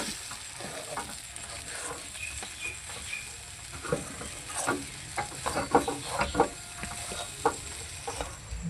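Spoon or spatula working a motichoor laddu mixture of gobindobhog rice and chana dal with charmagaj seeds in a pan, soft irregular scrapes and light sizzling, close and fairly quiet.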